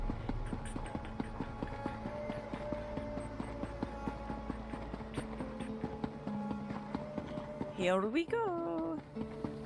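In The Elder Scrolls Online, set in Elsweyr, a mount's hoofbeats clip-clop rapidly and evenly at close range. Near the end, a voice speaks briefly over the galloping.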